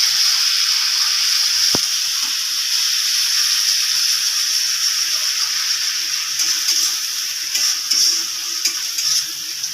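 Ground ginger, cumin and cardamom paste frying in a pan for a prawn malai curry, a steady bright sizzle and hiss throughout, with one sharp click early on.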